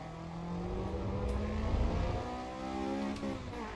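A Caterham sports car in Assetto Corsa EVO accelerates hard on the Camel Straight, its engine note rising steadily and loudly through the gears with no talk over it.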